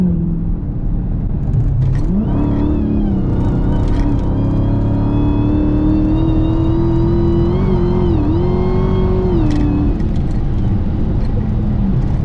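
A Hellcat-swapped Chrysler 300 on bald tires, revving loudly and holding a sustained engine drone with rising and falling pitch while spinning its tires, close and dominant throughout.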